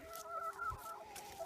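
Chickens clucking nearby, a short run of soft, rhythmic clucks with no voices.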